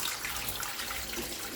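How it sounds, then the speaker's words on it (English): Water poured from a filter jug down a sink, a steady splashing gush running for the whole moment at close range, with no talk over it. "So now I need to tip that down the sink and repeat that 2 more times."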